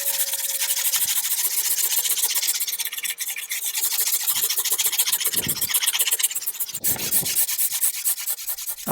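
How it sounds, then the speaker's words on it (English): A scraper rasps over a 1930s wooden sideboard, lifting leftover paint stripper residue in repeated close rough strokes with brief pauses between passes, no voices. "I just used my scraper to get rid of it and get it ready for sanding"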